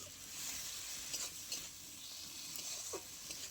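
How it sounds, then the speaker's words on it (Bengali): Tomato being stirred into spices in a frying pan for a rui fish and fresh brinjal dish, a steady close sizzle with soft scraping strokes throughout. "মশলার মধ্যে টমেটো খুব ভালো করে নাড়াচাড়া করে গলিয়ে নেব"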